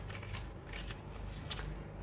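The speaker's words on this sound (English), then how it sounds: "So I'm just going to shuffle them and see which one wants to fall out." A stack of stickers is shuffled by hand, a steady dense papery riffling and sliding that runs continuously at close range, fairly loud, with no voices.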